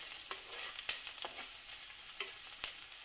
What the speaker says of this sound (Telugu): ఆనియన్ పచ్చిమిర్చి వేసుకొని కొద్దిసేపు పచ్చివాసన పోయే వరకు ఈ విధంగా ఉడికించుకోవాలి